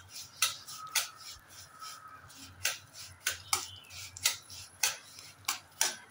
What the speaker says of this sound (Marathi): आता आपण रवा इथे मात्र छान पद्धतीने भाजून घ्यायचा आहे